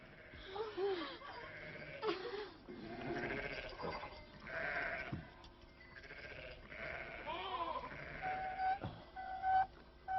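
Sheep and goats bleat repeatedly at a watering place, several animals calling in overlapping, wavering cries at moderate distance, with occasional faint voices among them.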